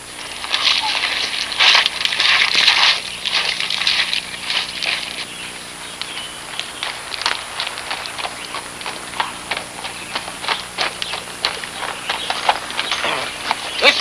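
A horse's hooves clop steadily on hard ground, carrying a riding couple in an old western setting, the even beats near and crisp, with a rushing noise over the opening seconds and no talk.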